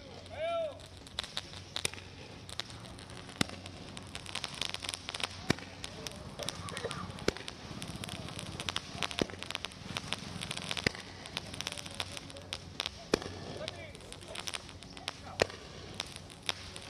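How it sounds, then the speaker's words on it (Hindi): Firecrackers burst in a street celebration of the Indian Army's Operation Sindoor: scattered sharp cracks and pops, some near and some farther off, over a busy crowd background with voices. "लोग पटाखे फोड़ रहे हैं"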